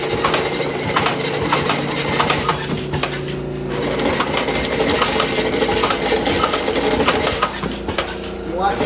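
A CueJog paper jogger with drop bottom clatters steadily as its paddles tap and square paper sheets moving into the feeder, a dense mechanical rattle running throughout at close range.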